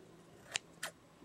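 Scissors snip cotton yarn while crocheting: two quick, crisp cuts close up and fairly quiet, followed by a brief rustle of handling.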